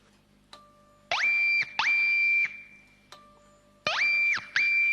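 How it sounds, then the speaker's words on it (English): Electric guitar played through a pitch-shifting pedal, swept up to produce a warbling telephone-ringing effect; bursts of sustained, bright tone rise sharply, hold, then cut off, recurring four times with short gaps between them. "so you kind of got this telephone ringing sort of sound."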